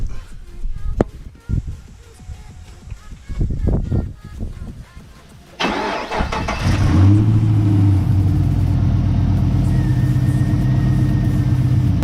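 A Pontiac G8 GT engine cranks, catches with a loud rise and then settles into a steady, close idle rumble after some earlier handling clatter and thumps.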